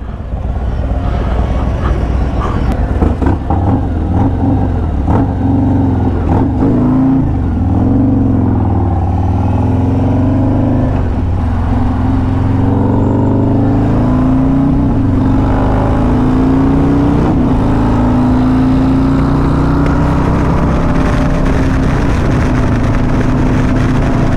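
2024 Harley-Davidson Road Glide with modifications, riding steadily with a loud, continuous engine drone that rises and falls with throttle, heavy wind rush throughout and no talk.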